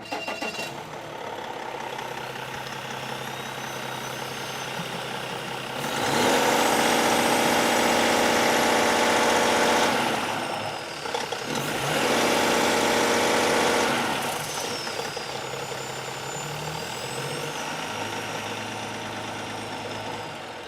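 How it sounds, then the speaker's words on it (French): A Cummins ISX diesel engine runs on a test bench with a steady, rumbling idle. Its roar swells loudly twice for several seconds each time, then settles back to idle. No one speaks. "Donc là, on va partir le moteur puis on va voir un peu ce qu'on peut faire avec."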